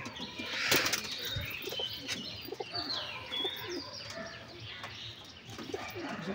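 Madras breed pigeons coo softly nearby while a sudden flurry of flapping wings bursts out early on, with faint chirps scattered through the quiet background.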